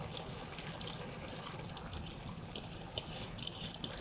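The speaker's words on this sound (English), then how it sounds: "we wash the rice." Rice is washed for Trinidadian pelau, with steady running and swishing water from a tap or sink under scattered light clinks, close and continuous.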